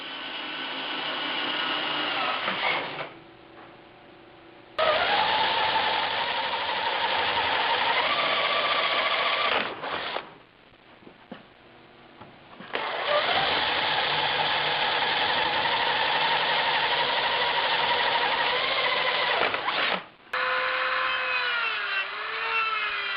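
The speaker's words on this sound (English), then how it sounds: "Now I just have to drill the hole." A power drill whines in several long bursts, separated by short pauses, its pitch dipping as it bites into a 1976 Mazda RX-5 Cosmo during power window installation.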